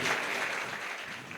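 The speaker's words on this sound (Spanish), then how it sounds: "Fuerte el aplauso para Joel" Audience applause at a community talk against lowering the age of criminal responsibility, a steady dense clapping wash that holds at moderate loudness for the whole stretch, slightly easing toward the end.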